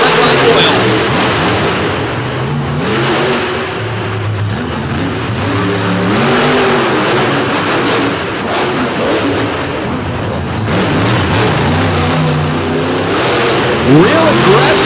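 A monster truck, Team Throttle's Jurassic Attack with a fresh new engine, roars and revs through an arena show in DuQuoin, Illinois, its engine rising and falling continuously beneath a loud announcer's commentary.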